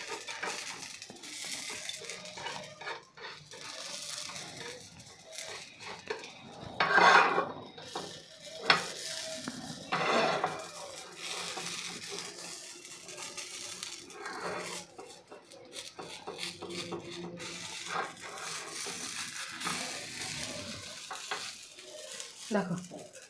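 Spinach and cauliflower breakfast patty frying in oil in a pan and being flipped, with a steady sizzle, a clatter of utensil on pan around the turn, and a voice talking over it.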